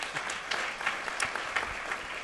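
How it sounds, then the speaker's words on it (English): A church congregation at a weekend worship service breaks into steady applause, a dense patter of many hands clapping at moderate volume for a couple of seconds, with no talking over it. "We can applaud that."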